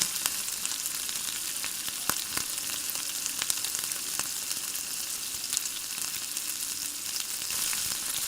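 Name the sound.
sautéing chopped tomatoes with soya chunks in a pan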